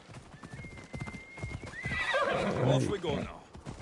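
A mount in the Assassin's Creed Odyssey game whinnies loudly up close, with rhythmic clip-clop hoofbeats trotting throughout, while someone talks over the sounds.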